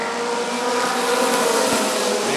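Race cars of the American Short Trackers series roar at the green flag of a 20-lap feature at Rockford Speedway, a dense, steady engine drone building as the field picks up speed.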